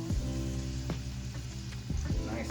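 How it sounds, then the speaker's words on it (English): Breakfast sausage sizzles steadily in a cast iron pan over a burner set to level 5, a close, continuous crackling fry with small pops and no talking. "Nice sizzle."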